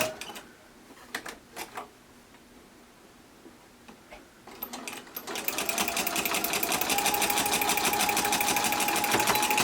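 A sewing machine back stitches the seam of a cloth face mask, starting with a few short bursts and light clicks, then settling into a loud, fast, steady mechanical whir and rattle, with no talking.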